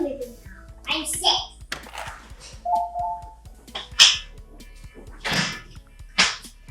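A kitchen cooking alert signals that a steak cooking in an air fryer is done, giving a short electronic beep tone amid a child's lively chatter and clattering household noise.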